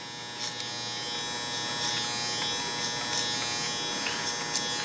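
Electric hair clippers cutting men's hair clipper-over-comb, a close, steady buzzing whine with small crackling bursts as the blades pass through hair, continuous and without speech.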